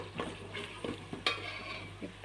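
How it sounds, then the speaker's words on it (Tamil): Mint leaves are stirred into ginger and garlic frying in a pan for mushroom biryani, giving soft, quiet scrapes and a low sizzle with one sharper clink midway. "புதினா போட்டு நல்லா மிக்ஸ் பண்ணி விடுங்க"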